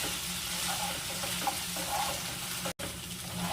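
Ginger paste being stir-fried in a pan while making shukto, a continuous bright sizzle with the scrape of stirring, close and steady, briefly cut by a short gap.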